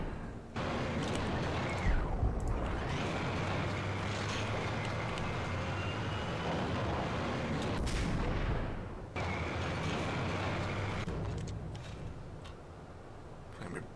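Sniper rifle fire in the Max Payne video game comes as loud booming shots, each followed by a long rumbling tail. Several blasts land over about fourteen seconds, with brief quiet gaps between them.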